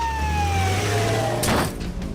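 Police siren in a Paw Patrol cartoon: a sustained, loud wailing tone with a falling pitch holds steady, then a brief clattering burst cuts in near the end.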